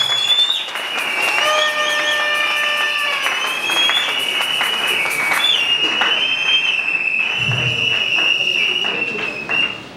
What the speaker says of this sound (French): est-ce que tu peux acclamer très très fortement le Seigneur?